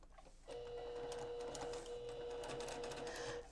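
A sewing machine edge-stitching fabric pocket gussets on an Advent calendar, running with a steady continuous mechanical hum and rapid stitching chatter after a brief start, close and alone.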